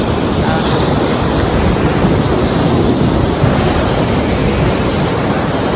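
Loud, unbroken sea surf roars onto the beach, a dense continuous wash with wind noise close to the microphone.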